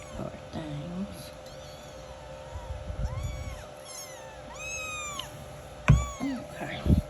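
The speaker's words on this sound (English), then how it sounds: "I just wanted to show those kittens to you." Several young kittens meow in high, repeated cries, some close and some a little farther off, with a person talking between them indoors.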